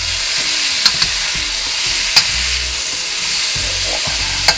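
Chicken pieces browning for a honey soy stir fry, a loud, steady, close sizzle in a hot pan with a few brief clicks of a utensil.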